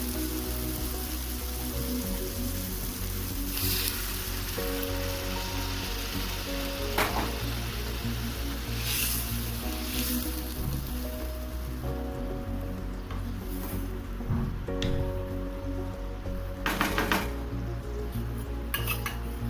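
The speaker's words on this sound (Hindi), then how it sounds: "देखिए ग्रेवी खौल ही रहा है, डालते ही खौलने लगा।" Hot water poured into gravy in a pan boils and sizzles steadily with a bubbling hiss, while metal utensils clink and scrape against the pan now and then, close and continuous.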